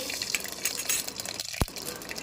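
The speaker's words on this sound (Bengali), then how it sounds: "তো ভাজা ভাজা হয়ে গেলে দুবার লেড়ে চেড়ে দেবো" Mustard seeds fry in hot oil in a cooking pot, a fizzing, crackling sizzle with small pops and a sharp clink of a stirring utensil against the pot near the end.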